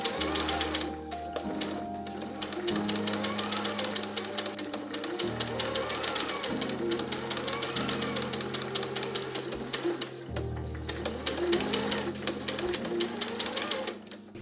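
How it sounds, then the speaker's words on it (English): A sewing machine stitching the back seams of a cottage core corset, a steady close mechanical whir with rhythmic needle chatter that shifts pitch as the speed changes, running alone throughout. "I'm just going to do the same thing and just stitch the back sides to the center back on these seams right here"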